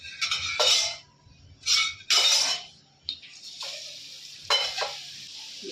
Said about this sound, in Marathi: आता आपण हा चांगला भाजून घेणार आहोत